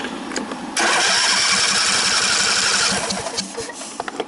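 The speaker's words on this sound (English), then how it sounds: "everything is hooked up and bolted on, and I'm going to test start it" A lawn mower engine, freshly reassembled after a carburetor cleaning, cranks and catches into a loud, steady running roar for about two seconds, then sputters and fades as it dies down, heard up close with no talk.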